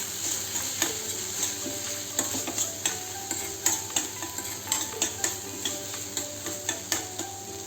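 Dal being stirred after turmeric, red chilli powder, garam masala and coriander powder go in, a spoon scraping the pot in a steady rhythm of soft knocks over a continuous low sizzle, close and fairly quiet.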